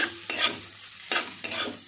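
A spoon stirs sautéed green peas and tempering in a pan for masala rice, with three close, scraping strokes over a low sizzle.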